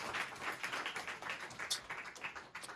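Students in a classroom clap together in a quick, even patter of applause that sounds faint and somewhat distant.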